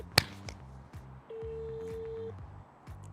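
An outgoing phone call rings through a handset: one long steady ringback tone sounds clearly, preceded by a brief click, with faint low background noise and no talking.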